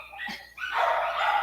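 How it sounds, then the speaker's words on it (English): Neighborhood dogs bark outdoors in a couple of short, yelping bursts, moderately distant, with a faint background hum and no talking. "In our neighborhood, there are a lot of dogs"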